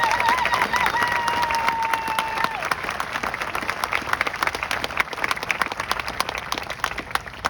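Audience at a 2024 AHA graduation commencement ceremony applauding and cheering to welcome the commencement speaker, Josh George; sustained, dense clapping across the whole stretch, with a brief tonal whistle near the start.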